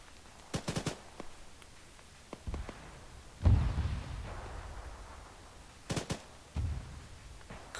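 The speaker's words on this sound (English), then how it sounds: "Christ, there's a lot of explosions down there." Distant explosions and shellfire in a military shooter game during an assault on NATO forces: faint, scattered sharp cracks and one deeper thump with a rumbling tail, spaced irregularly over a quiet background.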